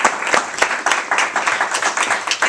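A small group in a classroom or meeting room gives a round of applause, loud, close hand claps in uneven bursts with distinct individual strikes, no voices over them.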